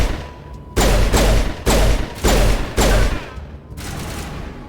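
Four loud, close bursts of automatic gunfire from the video game Mass Effect, each about half a second long, followed by a quieter stretch of shooting.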